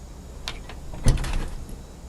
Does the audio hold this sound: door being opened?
yes